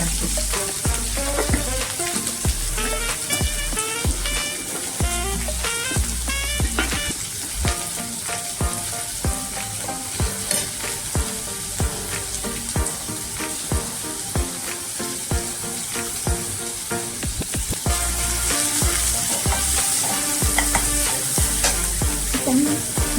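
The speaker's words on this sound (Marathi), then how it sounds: "कांदा आपलं सगळं असं फोडणीचं आपण परतून घेऊया" Steady sizzling of onion tempering sautéing in a hot pan with frequent stirring and scraping clinks, loud and close, continuing throughout without talk.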